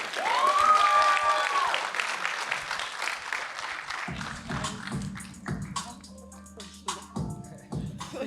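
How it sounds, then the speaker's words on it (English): Wedding reception guests clapping for the newlyweds, a burst of applause that fades into scattered claps and taps over background music and chatter. "Round of applause for the couple."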